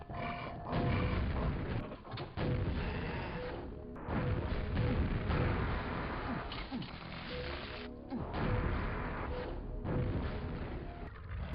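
Rocket explosions in Quake boom one after another as the player rocket-boosts through the map, loud crashing blasts in quick bursts with short gaps between them and no talking.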